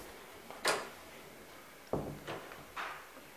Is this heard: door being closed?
yes